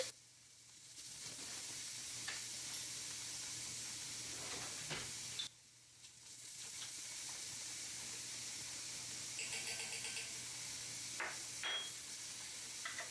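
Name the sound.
minced garlic sizzling in a pan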